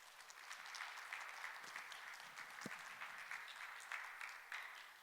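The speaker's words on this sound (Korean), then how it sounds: "박수로 맞아주시기 바랍니다" Conference audience applauding to welcome a speaker at a technology commercialization conference and workshop, steady clapping from a crowd in a hall, moderately distant and even throughout.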